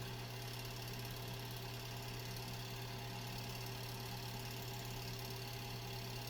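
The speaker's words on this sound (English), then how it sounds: "Now we're ready to wind the bobbin." Sewing machine winding a bobbin, a steady humming motor whir with a fine rapid mechanical buzz, continuous and even throughout at low volume, with no talk.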